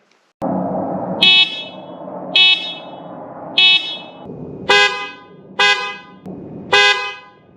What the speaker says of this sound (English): Just listen to the before and after.